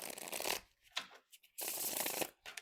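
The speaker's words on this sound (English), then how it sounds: "let me show you how it shuffles" A tarot card deck is shuffled by hand in two close, crisp riffle bursts, each a rapid flutter of cards, separated by a few soft taps and shuffling sounds, with no talking.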